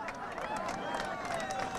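Crowd at an outdoor political rally on Marmara Island applauds steadily, a dense patter of clapping mixed with murmuring voices, fairly distant and continuous throughout.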